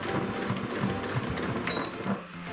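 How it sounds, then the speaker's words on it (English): Close, continuous rapid whirring of a sewing machine top stitching across the front and flap of a satchel bag, steady and unbroken throughout. "I'm going to top stitch across the front and around the flap"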